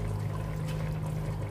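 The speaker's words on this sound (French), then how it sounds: "c'est pas plongé dans l'eau. Je vais en rajouter quand même un tout petit peu" Water is poured into a pot holding chicken drumsticks in tomato sauce, a steady, continuous pouring and trickling wash heard close up with a low background hum, no talk.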